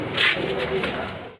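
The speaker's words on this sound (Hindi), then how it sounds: "तो ये ईरानी हाई फ्लाइंग पिजियन, इसका शौक करिए।" An Iranian high flying pigeon coos in a short, close, moderately loud burst over a dense background hiss.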